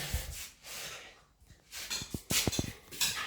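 Dogs breathe and pant close by in quick, uneven huffs, with a snort or two and some rustling in between.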